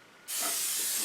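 Coffee maker brewing, cutting in suddenly with a loud, steady rush of hissing steam that holds unbroken after a quiet moment, close by with no talking.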